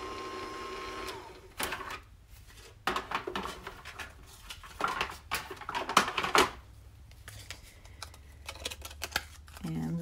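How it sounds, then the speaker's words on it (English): A die cutting machine cranks paper through, with uneven bursts of grinding, clicking mechanical noise that start and stop over several seconds, fairly close, under an occasional voice. "Talk amongst yourselves while I die cut this out with my die cutting machine."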